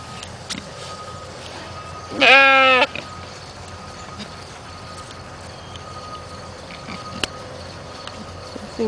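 A single sheep bleat rings out clearly for under a second, close by, over a quiet outdoor background with no other animal calls.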